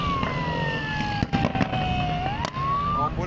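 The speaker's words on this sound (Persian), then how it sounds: "آمبولانسه میگم آمبولانس" An ambulance siren wails with rising and falling tones during a Chaharshanbe Suri fire festival night, loud and steady against street noise, with brief bangs and crackles cutting through.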